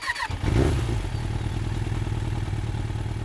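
A Harley-Davidson Pan America motorcycle engine runs hot at a steady idle, a close, loud, even low throb with a brief louder burst near the start and no talking.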